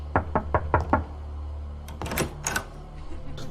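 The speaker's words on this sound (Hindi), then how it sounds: "जब मैंने दरवाजा नॉक किया" Five quick, evenly spaced knocks on a house door at night, loud and close, followed by a scattering of fainter knocks and thumps, with no talking.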